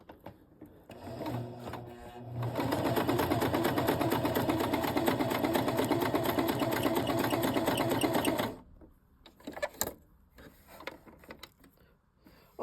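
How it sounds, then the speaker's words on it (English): Singer Esteem sewing machine running a straight stitch, a steady, loud mechanical whir for about six seconds that stops abruptly, followed by a few faint clicks and handling sounds. "I have it on letter A, which is a straight stitch, and then we're going to sew."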